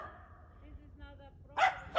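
A loose dog on a residential property gives two sharp barks near the end, fairly close, after someone speaking quietly.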